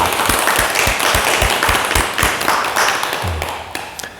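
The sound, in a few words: audience applause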